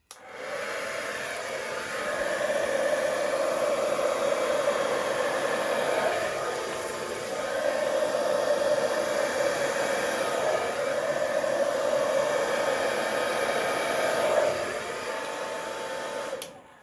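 A steady stream of blown air pushing acrylic paint across a Dutch pour painting, a continuous close whooshing hiss that swells and dips slightly in a few long passes, with no talking.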